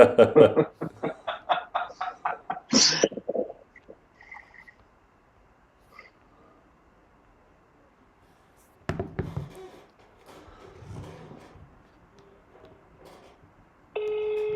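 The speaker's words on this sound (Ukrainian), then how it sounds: "Чутно ведь телефон." A phone call is placed on speaker, with a run of rapid dialing tones followed by sparse electronic beeps and a connection tone, and a voice briefly heard in between.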